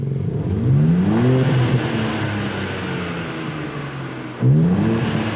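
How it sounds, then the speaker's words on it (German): A 2023 BMW M2 (G87) engine revs up sharply to 5000 rpm, its pitch climbing, then holds at a steady high drone before a second quick rev near the end. "jetzt können wir schon bis 5000 Touren drehen"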